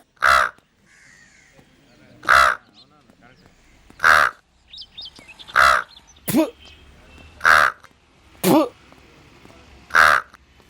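In a Telugu film scene, a voice imitates a crow, repeating short harsh caws at steady intervals, about eight in total, close and loud.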